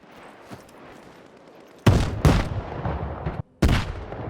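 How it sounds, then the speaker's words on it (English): Gunfire from warring factions in the game STALKER 2, a few loud, sharp shots with broad crackling bursts after a quiet stretch, followed by a brief pause and another shot. "there are the other gunshots of the other factions fighting"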